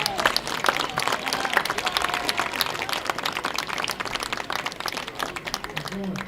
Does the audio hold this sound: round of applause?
yes